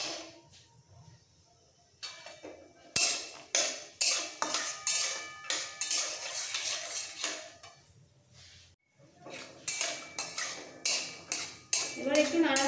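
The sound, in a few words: raw peanuts frying in refined oil in a wok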